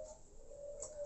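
A spotted dove (tekukur) coos in a soft, steady, sustained call heard alone at low volume, with a faint higher chirp near the end.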